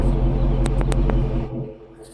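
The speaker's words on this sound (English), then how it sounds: "There's 2 cars passing by." Two cars passing by on a nearby road, a broad rumbling swell with a few sharp clicks and knocks, then fading to quiet as they move away.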